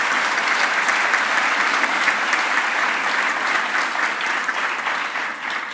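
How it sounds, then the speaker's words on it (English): Warm, full applause from a school audience for Rev Leah, a thick continuous patter of many hands at steady volume that eases slightly toward the close. "Can we give her a round of applause?"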